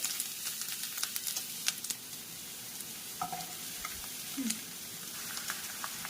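Mustard seeds, ginger, garlic, and green and dried chilies frying in hot sesame oil give a soft, continuous sizzle with scattered small pops and crackles, fairly quiet and close.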